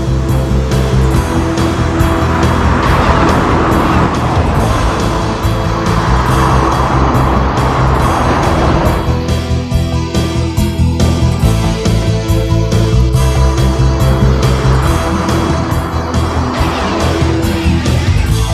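A powerful car engine revs and roars continuously at close range, rising and falling through gears as it drives hard.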